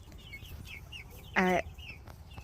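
A chicken in a coop at night lets out one short, sharp squawking cluck while perched on the roost, standing out briefly over a faint, steady background hum.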